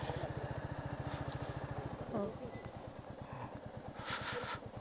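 A motorcycle engine idles close by with a steady low rhythmic thumping while the bike is being parked, briefly joined by a higher mechanical squeal and some faint background noise.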